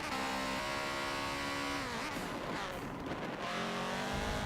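Porsche race car engine in the Forza Motorsport 7 racing game, a steady loud engine drone with shifting pitch, a dip midway, then climbing again, alone without talk.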